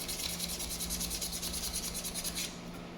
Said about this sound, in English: you're going to give these contacts, this piece here, and where the buttons slide, a very light scuffing